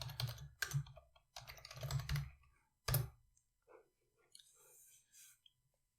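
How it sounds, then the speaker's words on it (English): A key phrase being typed on a computer keyboard: quick clusters of close, crisp keystrokes in short bursts, followed by a few lighter, softer taps as the typing trails off. "So I'll type in my key phrase"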